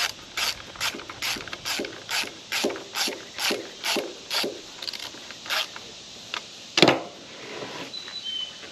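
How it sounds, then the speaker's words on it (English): A screw is driven back into the air filter housing of a Honda power plant, a steady series of close ratcheting clicks repeating about twice a second, ending with one louder clack. "Now I'm finna put this screw right back in the air filter housing."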